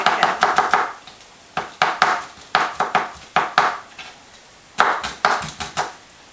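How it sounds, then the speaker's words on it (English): A kitchen knife chops garlic finely on a board in quick, rhythmic runs of sharp, close taps separated by short pauses, with no one talking. "so do the same with the remaining garlic. Chop it as fine as you can."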